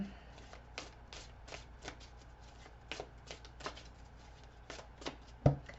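Close, crisp shuffling of a tarot deck: a run of quick riffling flutters and card snaps that keeps going throughout, ending on a sharper slap of cards, with no voices.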